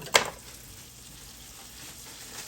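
Butter dropped into a hot frying pan while cooking birria tacos gives a short sharp clack at the start, then a faint steady sizzle continues close by without talking.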